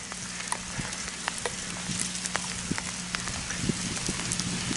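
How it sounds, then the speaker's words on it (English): Hail falls outdoors in steady wild weather, a dense patter of small hits with scattered sharper ticks that runs on without a break, fairly close and with no voices. "it is hailing."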